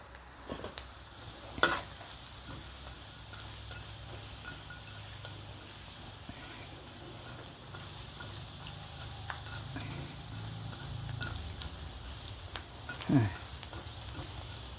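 Pork rinds deep frying in hot oil, a continuous crackling sizzle with occasional stirring scrapes and a couple of louder clanks.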